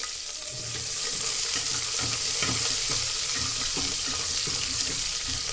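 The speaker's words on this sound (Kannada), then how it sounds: "ಒಗ್ಗರಣೆಗೆ ಒಂದು ಈರುಳ್ಳಿ ಹಾಕಿದ್ದೀನಿ" Steady sizzling and frying of a small onion tempering in hot oil with faint stirring clinks, fairly close, no talking.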